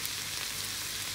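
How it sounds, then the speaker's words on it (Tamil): Vegetables frying in oil in a pan for a sandwich filling give a steady, close, dense sizzle with no break. "இது ட்ரை ஆகிற வரைக்கும் ஃப்ரை பண்ணிக்கலாம்"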